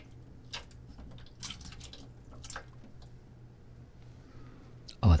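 A synthetic nylon shaving brush is soaked with water, giving soft irregular drips and watery splashes, close and quiet, ending in a brief louder knock.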